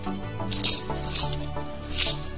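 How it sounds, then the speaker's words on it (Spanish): Nine coins are shaken together, giving bright metallic clinks and jingles in three or four rhythmic bursts over a low background hum. They are close and fairly loud. "Concentraros en el sonido de las monedas golpeando una con otras."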